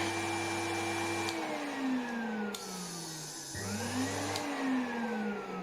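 A Podotronic V pedicure machine handpiece fitted with new bearings runs with a smooth, steady whine. Its pitch glides down, dips briefly, then rises again as the speed changes, and it sounds quiet and close.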